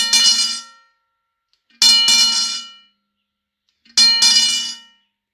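Three loud metallic strikes from the plunger of a Safetran Model 040201 hybrid railroad crossing bell, spaced about two seconds apart, each a sharp clang with a bright ringing tail that fades before the next.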